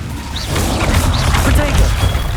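An Incendio fire spell is cast in Hogwarts Legacy combat, a loud burst of whooshing, crackling magic layered with dull booms and rapid swishing effects throughout the short moment.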